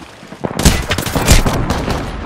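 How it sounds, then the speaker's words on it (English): Video game gunfire in Apex Legends, a burst of loud shots starting about half a second in and continuing in repeated cracks over a steady background of game noise. "I am taking fire, friends."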